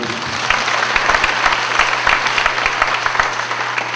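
Steady applause from a church congregation at an evening worship service, dense and even clapping filling the room for the whole stretch, with a voice briefly speaking over it.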